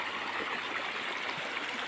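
Stream water that keeps flowing even in summer makes a faint, even rushing and trickling wash, heard alone and without talk.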